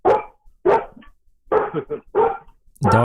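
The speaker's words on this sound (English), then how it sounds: "is this the first time one's barked at me from across the country?" A dog barks loudly and close by, several sharp barks in uneven bursts with short silent gaps between them.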